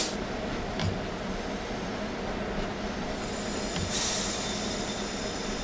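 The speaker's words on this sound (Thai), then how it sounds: "ดูมันเบรกดีขนาดไหนอ่ะ" A train brakes in a train simulator game: a steady, loud rolling rumble with a couple of brief knocks, then a rising airy hiss of brakes toward the end, with no talking.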